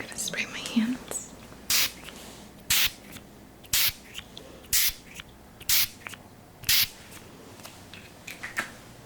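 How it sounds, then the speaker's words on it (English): A hand spray mists over hands in a quiet room, a series of short, evenly spaced hissing puffs close to the microphone, with soft whispering at the start. "and then I'm going to spray my hands."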